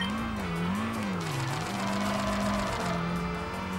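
Car engine droning and tires squealing through a handbrake drift in Kaido Racer 2, a Japanese drift game, with a steady, wavering engine note sustained throughout.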